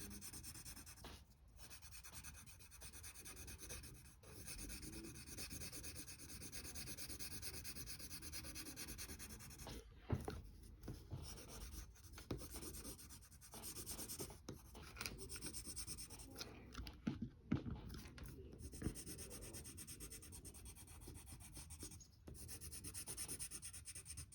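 A drawing of a cartoon character's glasses being colored in, giving close, soft, continuous scratchy rubbing strokes of a drawing tool on paper, steady and unbroken with occasional louder scrapes.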